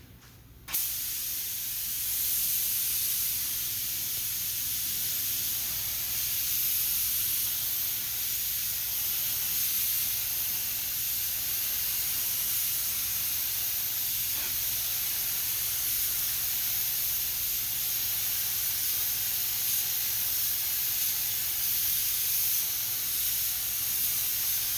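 Lacquer primer sprayed onto a car body over a bondo dent repair, giving a continuous loud, even hiss that runs unbroken from start to finish after a sudden onset.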